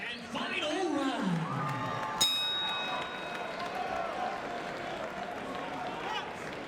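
A boxing arena crowd cheers and applauds before the sixth and final round, a broad steady roar under a commentator's voice.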